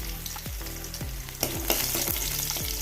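Mustard seeds and four or five garlic cloves fry in hot oil, a dense crackling sizzle with scattered pops and a few soft utensil scrapes, close and steady with no voices.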